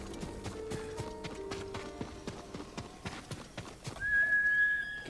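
A horse in Ghost of Tsushima gallops with fast, regular hoofbeats close by, then lets out a loud, rising neigh near the end.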